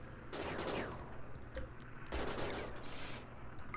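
Rumbling mortar fire and blasts in the colony simulation RimWorld, two loud bursts of rattling, explosive noise over a continuous low background.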